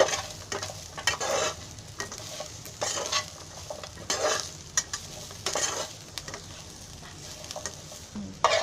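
Cashews roast in a pan for chicken korma, repeated close stirring strokes rasping over a soft continuous sizzle, with occasional clinks of utensil against metal and no speech.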